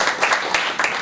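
Conference audience applause, a dense close patter of many hands clapping together at an international university conference, brief and steady without any voices.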